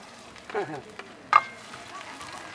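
Garlic frying in a pan for a large batch of pork asado gives a faint, low sizzle with a soft stirring scrape and one brief clatter near the middle.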